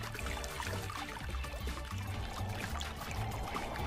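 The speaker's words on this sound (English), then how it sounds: "Water pumped from the water tank pours over the honeycomb cooling pad." Water pumped from a tank pours over a honeycomb cooling pad inside a portable evaporative air cooler, giving a steady, close trickling and splashing that runs without pause.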